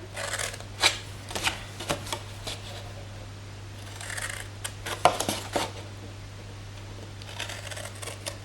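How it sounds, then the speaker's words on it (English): Scissors snip through paper score lines while a gift box is made, a series of short crisp cuts in uneven bursts with pauses between, close and fairly quiet, set against a steady low hum. "the next thing we are going to do is cut up these score lines here and here and here and here"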